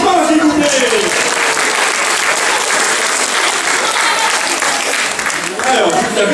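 A children's Christmas show audience bursts into loud, dense applause that carries on for several seconds, with voices audible over the clapping at the start and again near the end.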